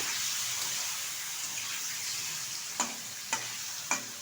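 Hilsa fish frying in a pan gives a soft, steady sizzle, close but quiet, followed by three distinct spatula knocks or scrapes spaced evenly near the end.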